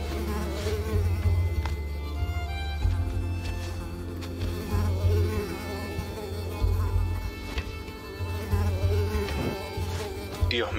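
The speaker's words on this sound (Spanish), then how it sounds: "Dios mío, los zancudos, pana." Mosquitoes buzzing during a session of the Unravel video game, with a thin, steady whine close by over a low continuous hum and no speech.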